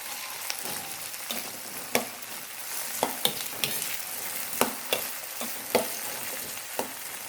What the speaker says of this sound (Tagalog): ilagay na po natin ang patatas. Alright. Halo-haloin po natin ito hanggang sa maluto.